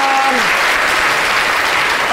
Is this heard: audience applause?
yes